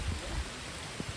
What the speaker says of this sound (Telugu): ట్రెక్కింగ్ విత్ వర్షం, ఇది చాలు మనకి.